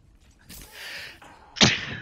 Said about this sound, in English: Oh, what a time to sneeze.